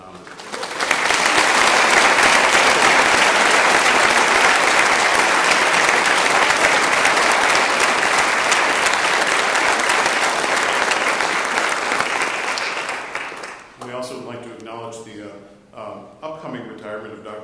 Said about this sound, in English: Please join me in a round of applause in honor of her.